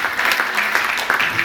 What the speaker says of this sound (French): est-ce qu'on peut encore applaudir le serviteur Patrick?